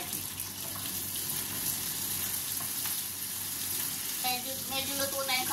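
Sardines go into a pan of cooking tomatoes, giving a steady close sizzle and frying hiss with a little stirring, and a voice comes in near the end.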